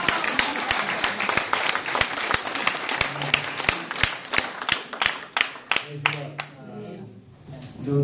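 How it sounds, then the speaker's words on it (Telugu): Audience in a Telugu church gathering clapping in a dense burst of sharp hand claps that thins out toward the end, with scattered voices underneath. "క్లాప్స్ కొట్టండి"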